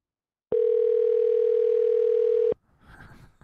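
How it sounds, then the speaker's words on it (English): On an outgoing phone call, a single steady ringing tone sounds clearly for about two seconds, then cuts off into quiet background rustle. "It's 2 rings. He might pick up."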